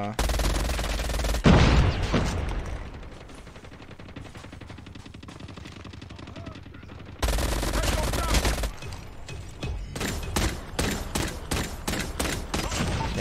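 Rapid video-game gunfire from the Banana Blaster, dense bursts of repeated shots with loud stretches at the start and the end and a quieter rattling gap in between.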